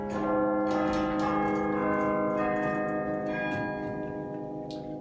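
Carillon bells ring together in a chord, several sustained metallic tones with rich overtones that bloom and then slowly decay, with a few fresh strikes layered in.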